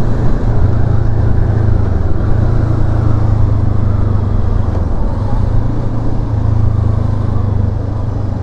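Honda CL500 Euro5 2023 motorcycle engine pulling hard under acceleration on a test ride, a steady loud drone with wind rush close to the rider, no talk over it.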